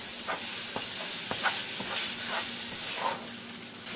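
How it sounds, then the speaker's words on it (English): Ground hamburger browning in a frying pan gives off a steady close sizzle and hiss, broken by light scraping and stirring taps. "we're just going to chop the hamburger up here. And we're going to brown it."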